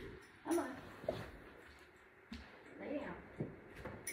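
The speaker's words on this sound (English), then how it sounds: "Let me pick up my dog really quick." A small pet dog whimpering and yipping indoors, several short faint whines and yelps spread through the moment alongside a person speaking nearby.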